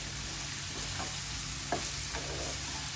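Bitter gourd with salt stirred in a frying pan, giving a soft, continuous sizzle with a few faint scraping strokes over a steady hiss, close but quiet.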